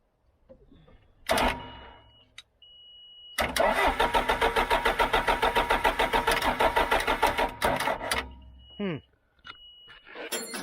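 A John Deere 310G backhoe diesel engine cranks with a rapid rhythmic chugging for several seconds, stops, then turns over briefly again, loud and close.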